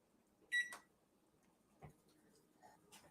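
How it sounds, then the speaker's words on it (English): A kitchen timer is set, with a short bright beep followed by a few soft clicks and ticks in a quiet room. "we're going to set the timer for 5 minutes"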